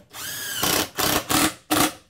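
A power screw gun whirs on in a long burst, then in three shorter bursts, driving screws into a post of an elevated garden planter, close and loud.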